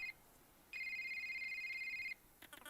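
A cell phone ringing, two bursts of a bright electronic trill with a short pause between them, clear against a quiet background, followed by a brief rustle.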